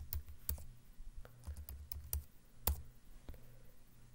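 Quick, uneven bursts of keystrokes on a computer keyboard, close and fairly quiet, with short pauses between the clicks.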